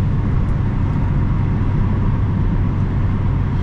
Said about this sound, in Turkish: Bak şimdi mesela bir de rüzgar sesine bakalım.